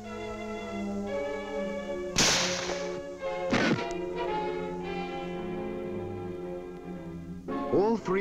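An M1 rifle fired at partitions in a historical army test, giving a few sharp, loud cracks spaced several seconds apart over a sustained droning musical tone.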